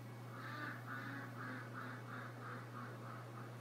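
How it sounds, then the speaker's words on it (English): A duck quacks in a steady series of about eight evenly spaced calls, somewhat distant, over a constant low hum. "Listen to that little duck in the back, eh?"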